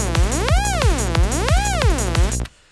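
Serum synth FM lead with an LFO sweeping oscillator pitch fully up and down, a bright buzzy tone rising and falling in smooth repeated waves over a pulsing low beat, cutting off abruptly at the end.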